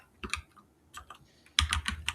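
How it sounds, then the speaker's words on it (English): Fingers type on a mechanical keyboard in a room, with clicky keystrokes arriving in short bursts, a few scattered presses and a pause, then a denser run of sharp clacks near the end. "Somebody is using a mechanical keyboard."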